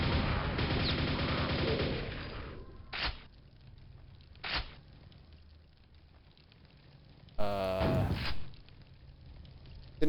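Gunfire in the video game Quake running on the Quakespasm engine: a sustained burst of rapid shots, then two sharp isolated shots and a final loud blast, each one loud and close.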